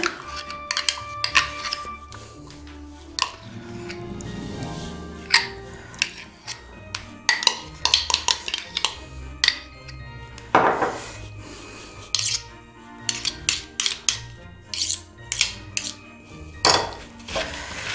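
A spoon stirs kutia, a traditional Polish Christmas wheat dish, in a pot, with scraping and clinking against the sides in uneven bursts that grow into quick repeated knocks toward the end.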